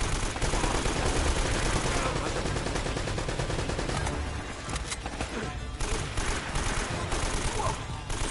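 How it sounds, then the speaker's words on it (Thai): Continuous rapid machine gun fire in Uncharted: Drake's Fortune, dense and loud throughout, with brief shifts in intensity and scattered bursts. "มีปืนกลนะ"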